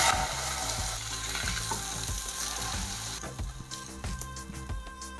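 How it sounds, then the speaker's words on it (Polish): Chicken cutlets with forest mushrooms fry in fat and butter in a pan, giving a steady close sizzle with rhythmic low clatters and scraping throughout. "będą się smażyć już ostatnie kotlety"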